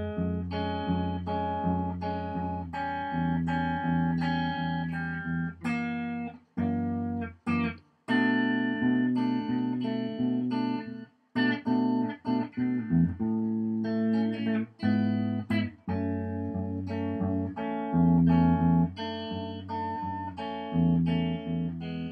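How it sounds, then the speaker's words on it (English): Guitar playing the second section of a song, a fingerpicked passage with ringing plucked notes and chords in a steady, gentle rhythm, played alone at close range for about twenty seconds. "So the 2nd part on the next video will sound like this."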